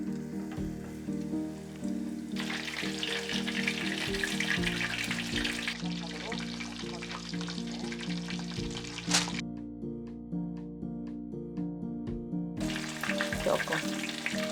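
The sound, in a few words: pork finger cutlets frying in oil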